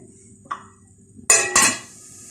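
A spoon scrapes and clinks against a pan while masala with tomato paste is stirred and fried, giving one light tap followed by two louder metallic clatters close up.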